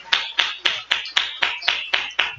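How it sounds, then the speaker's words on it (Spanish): Rhythmic, steady clapping from a church congregation at an afternoon service, about nine sharp, evenly spaced claps in unison, close and fairly loud with no talking over them. "Demos un fuerte aplauso al Señor en esta tarde."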